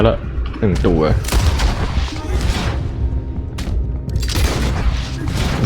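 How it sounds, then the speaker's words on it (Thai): Gunfire in Red Dead Redemption 2, loud booming shots in quick succession with a rattling burst and ringing tails, mixed with game mechanisms and a voice talking over the action. "ยิงกระบาล"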